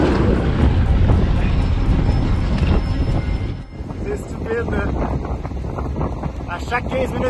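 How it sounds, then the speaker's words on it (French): Strong wind buffeting a microphone in a continuous loud rush while cycling on a mountain route in Peru, steady throughout with a brief dip midway. "À chaque 15 minutes qui passent, on dirait que le vent est plus fort."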